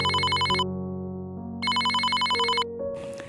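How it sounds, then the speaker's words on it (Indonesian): A mobile phone ringtone for an incoming call rings out in two loud, melodic bursts separated by a short pause, with no voices over it. "Tiba-tiba terdengarlah suara HP istrinya Kusrini berbunyi telepon."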